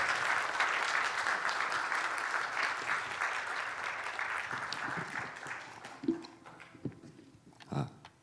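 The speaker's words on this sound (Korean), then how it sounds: "우리 큰 박수로 맞아 주세요." A church congregation at a Sunday joint worship service claps warmly to welcome a testimony speaker, loud steady applause that fades after several seconds into scattered claps, footsteps and brief voices.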